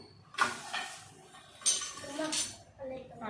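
Malida ingredients torn and mixed by hand in a dish with warm ghee, giving soft rustling bursts and light clinks of the dish, close and moderately loud with brief pauses.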